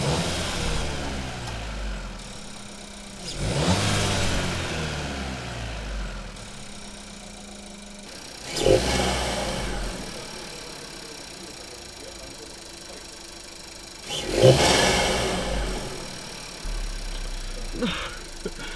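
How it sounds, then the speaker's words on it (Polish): A cold car engine, a 1.5 TSI EVO 150 fitted with a RAMAIR intake and sport filter, idles and then revs in three short, loud bursts spaced several seconds apart, each falling back to a low idle. "Nie gazuję go za bardzo, bo jest zimny"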